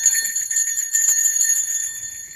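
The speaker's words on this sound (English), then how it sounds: "this is actually a safety device. I'm not joking. For Charlie? At all. No, this is a bear bell." A small metal bear bell for camping jingles continuously in quick, bright shakes, close and fairly loud, with no voices.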